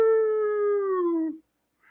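A dog howls as a livestream alert sound, one long sustained mournful tone that slowly falls in pitch, loud and close, then cuts to silence.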